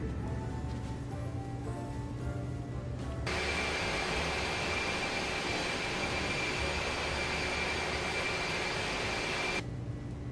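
Jet airliner engines spooling up to takeoff thrust in a flight simulator game, a steady loud roaring whine that jumps sharply in intensity partway through and then drops back, with no talking.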